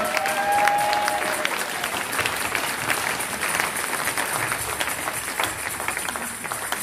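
A church congregation applauding to acclaim the Lord, sustained dense clapping that fills the room evenly from start to finish at strong volume.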